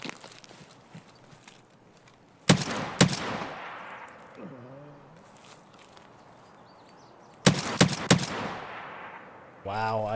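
An MP-155 shotgun in a video game fires in two close pairs of loud, sharp blasts separated by several seconds of quieter game ambience, with a short burst of sound at the end.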